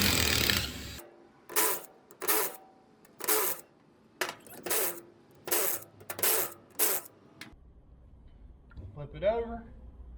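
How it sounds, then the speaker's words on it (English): A 14mm socket on a ratchet works ring gear bolts out of a differential, producing a series of about eight separate metallic clicking bursts in an uneven rhythm, close and distinct, ending in a short voiced sound. "get these ring gear bolts out"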